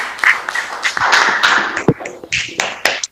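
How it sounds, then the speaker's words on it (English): Applause from a community discussion audience after a presentation, made up of uneven, fairly close individual claps and taps in a short, loose burst. "Can we please give a round of applause for the"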